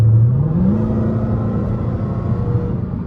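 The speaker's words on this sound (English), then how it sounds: "This what the exhaust sound like with the windows up" Dodge Hellcat exhaust accelerating as heard from inside the cabin with the windows up: a loud, muffled low rumble that climbs in pitch early on, then holds a steady droning roar throughout.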